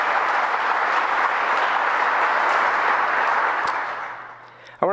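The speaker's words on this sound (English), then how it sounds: "you need to give them a round of applause" A hall of fame banquet crowd gives the event organizers a round of applause, broad sustained clapping that fades toward the end before a voice cuts in.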